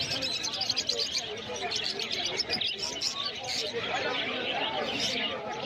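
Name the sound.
lovebirds and finches chirping at a pet market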